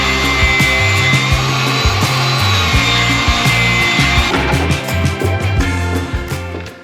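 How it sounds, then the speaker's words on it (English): Table saw ripping a large sheet of plywood in a barn workshop, a loud continuous whine and cutting roar with shifting low tones that eases off near the end as the cut finishes. "I'm holding a big piece of plywood, running it on the table saw"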